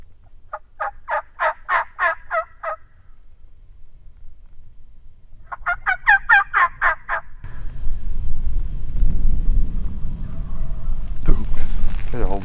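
Wild turkeys gobble on a mountainside in Washington during spring hunting season, a group of toms and a hen, with two distinct bursts of rapid, rattling gobbles, fairly close, followed by rustling movement and low wind-like noise.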